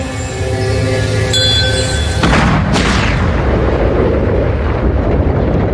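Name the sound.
explosion of antimatter apple, documentary effect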